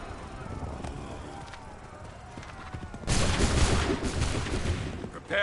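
A massed musket volley in Assassin's Creed 3 erupts suddenly after a quieter stretch, a dense crackling burst of many shots fired together that rumbles and fades, followed by the start of another blast.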